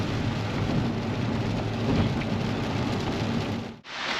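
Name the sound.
heavy rain pouring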